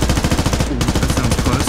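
Rapid automatic gunfire in the Squad military video game, a dense unbroken string of loud sharp shots near the listener.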